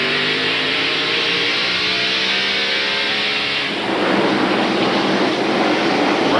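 Mark Martin's Valvoline Ford stock car at the 1993 Hanes 500, heard from a roof-mounted camera: a loud, high-revving race engine drones steadily with rising harmonic pitch, then shifts into a rougher, broadband roar of wind and exhaust.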